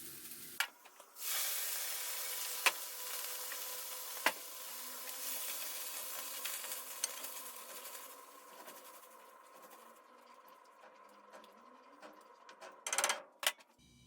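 Tomato sauce simmering on a stovetop, a faint steady hiss and bubbling with a few isolated clicks and a brief louder clatter near the end.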